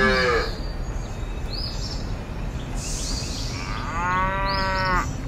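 Cattle mooing in a bus-driving video game, two drawn-out harmonic moos at the start and near the end over a steady engine-like rumble, with faint bird chirps between.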